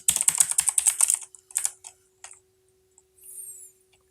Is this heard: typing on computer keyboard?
yes